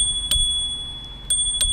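A Boosted Rev electric scooter's handlebar bell rings in three short, bright dings spaced unevenly, close and clear over a low rumbling background.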